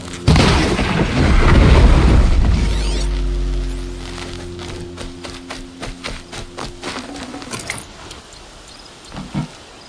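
Explosions in the video game Horizon Zero Dawn: a heavy, rumbling boom swells loudly and rolls on for a few seconds, then smaller cracks, clanks and scattered impacts follow, mixed with tonal game sounds.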